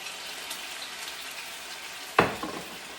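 Chicken wings frying in a pan, a soft continuous sizzle with a sharp clatter of a pan or utensil near the end.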